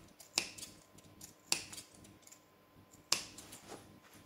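Three sharp, close scissor snips cut small notches into the curved edges of a fabric shoulder bag, spaced about a second apart, with faint rustling between them.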